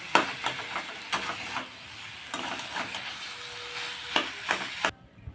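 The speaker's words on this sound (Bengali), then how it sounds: "মশলার সাথে আলুটাকে ভালো করে আমি কষিয়ে নিয়েছি।" Potatoes sautéed with spices and salt in a pan for veg patties, a steady sizzle broken by several sharp scrapes and knocks of a spoon against the pan, close and fairly loud, ending abruptly.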